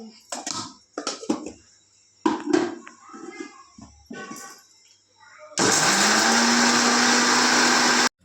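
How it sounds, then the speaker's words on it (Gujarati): A mixer grinder crushing cooled fried dough dumplings whirs loudly and steadily for a few seconds after some talking and handling noises, running continuously until it cuts off. "હવે આપણે તેને મિક્સરમાં ક્રશ કરી લઈએ"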